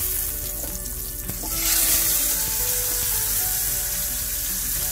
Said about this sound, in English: We're ready to flip our fish.